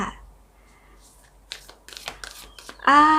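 A Heart & Soul oracle card deck is handled with a few light taps and rustles, then a loud, close riffle of cards being shuffled at the end.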